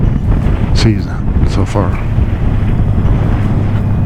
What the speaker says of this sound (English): Man, I complain a lot about the wind, don't I?